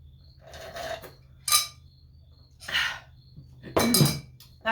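A glass of water being handled and drunk from, with four separate bursts of clinks and sips against a quiet background.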